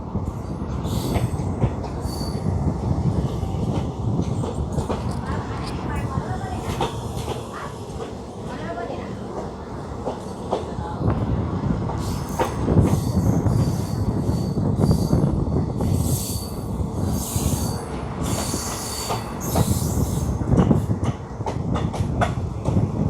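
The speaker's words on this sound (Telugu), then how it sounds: "ఇది కుంభమేళా స్పెషల్ ట్రైన్." A Kumbh Mela special train from Kacheguda to Patna Junction rolls along the rails with a steady loud rumble, squealing wheels and clattering, while voices talk faintly over it throughout.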